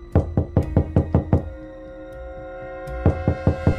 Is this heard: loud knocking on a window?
yes